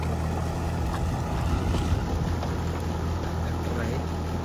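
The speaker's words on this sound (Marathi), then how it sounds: "ते ट्रॅक्टर चिखल करतोय" A tractor puddling a flooded rice field into mud for transplanting rumbles as a steady low engine drone throughout, with a little wind.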